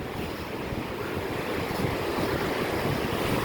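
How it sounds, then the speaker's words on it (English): A strong breeze buffets the microphone on a Florida beach near Cocoa Beach Pier, with ocean surf rolling in as a steady, close, continuous roar. "There's like a huge breeze blowing through, in case you can't hear from the ocean here."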